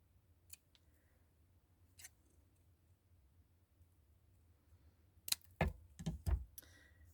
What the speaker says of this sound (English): I cut the little bits off at the end so I keep the flowers.